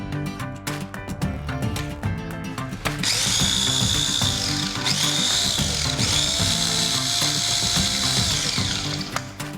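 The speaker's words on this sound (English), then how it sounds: "All of those into the food processor so they get nice and crumbly." A food processor runs on nori and cornichons, its blade whirring loudly and steadily for several seconds with a harsh bright grind and a brief dip midway, while chopping bumps knock underneath; nobody speaks.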